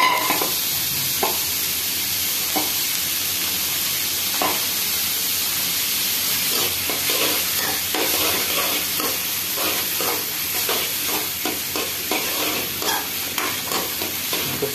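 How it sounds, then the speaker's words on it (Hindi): Onions fry in a pan for an egg curry while being stirred, giving a loud, steady sizzle with scraping and stirring noises that grow busier toward the end and no talking. "साथ साथ ऐसे हिलाते रहें ताकि ये जले नहीं"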